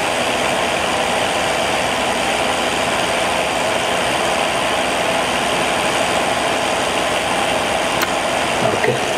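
Simulated light aircraft engine in Microsoft Flight Simulator 2020, a steady continuous drone at constant throttle, loud and unbroken throughout with no talking.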